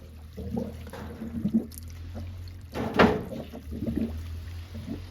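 Water is poured by hand into a toilet in a tent-camping setup to flush it, a faint trickle and splash with a louder gush midway, set against quiet low background hum.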